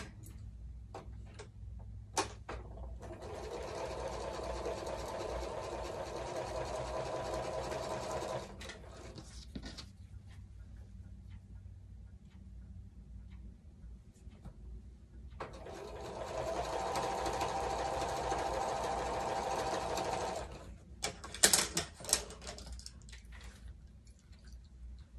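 A sewing machine stitches half-square-triangle quilt blocks together in two sustained whirring runs of about five seconds each, separated by quieter ticking and clicking pauses, with no talk.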